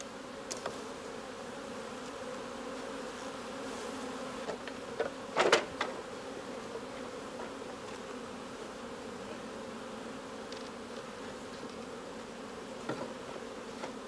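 Saskatraz honey bees hum inside an open hive with built frames, a dense, even buzz sustained throughout, with a brief louder pass of a bee flying close midway.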